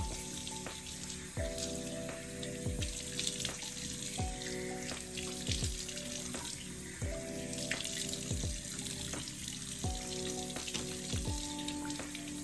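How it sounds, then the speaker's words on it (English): Cold water runs from a bathroom tap for face rinsing, a steady faucet stream with repeated splashes as cupped hands scoop and throw water. "you want to rinse your face with cold water to close your pores"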